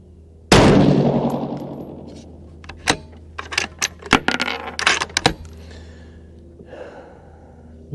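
A loud, sharp rifle shot from a 6CM rifle fitted with an EC Tuner, the cold bore shot, cracks near at hand with a long ringing decay, followed by scattered metallic clicks and clatter.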